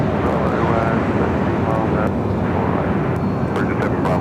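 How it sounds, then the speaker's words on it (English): Airbus A380 airliner on approach at Los Angeles International Airport, a steady broadband engine roar with wind rush, loud and continuous throughout, with a voice talking over it. "Of course, this A380 Super heading now to Tom Bradley."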